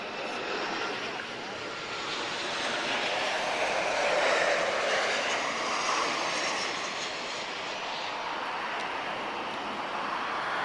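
Aircraft taxiing toward runway 02 at Lisbon Airport, a broad rumbling jet roar that swells and eases at moderate distance under outdoor ambience.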